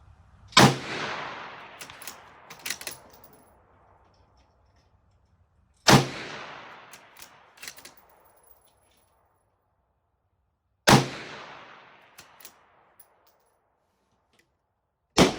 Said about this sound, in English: This is the Mossberg MVP with the cheap 55 grain bullets at 330 yards.